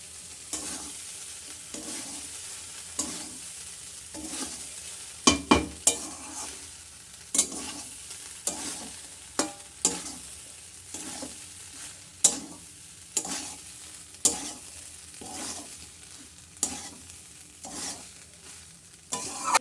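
Plain cooked rice being stirred and fried in a pan at home, with steady rhythmic scraping and light sizzling strokes repeating throughout, close and alone without voices.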